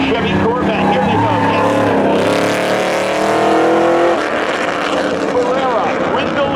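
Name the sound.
drag race, 1992 Chevy Corvette vs BMW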